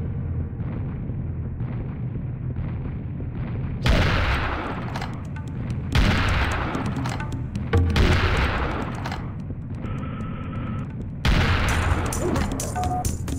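The Serious Bomb detonates in a Serious Sam video game, a series of massive booming explosions bursting out one after another over constant gunfire and roaring battle noise.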